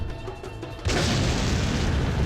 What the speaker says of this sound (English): The light flashes and explosions repeated.